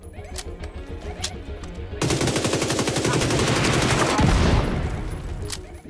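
Rapid automatic gunfire in The Division 2 video game, sustained bursts of loud rattling shots that intensify over several seconds, with no talk over them.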